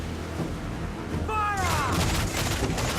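Cannon broadsides from a pirate ship battle in Assassin's Creed IV Black Flag, a run of loud booming volleys with a broad noisy burst in the second half, shouted crew voices mixed in.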